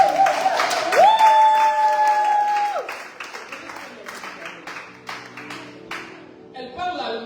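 Church congregation breaking into applause, a steady patter of many hands clapping that fades over several seconds, with a sung or sustained voice tone over the start.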